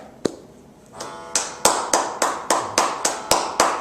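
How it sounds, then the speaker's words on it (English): A single person's hand claps, a sharp isolated clap followed by a steady run of about nine evenly spaced, crisp claps, close and clear with no talk. "How about clap?"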